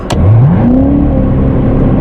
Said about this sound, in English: I'm going to mash the gas and let off right away.